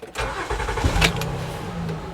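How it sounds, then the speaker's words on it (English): A Honda Pilot engine cranks briefly and catches, then settles into a steady idle. The sound is close and fairly loud, with no one talking. "Start the engine one time."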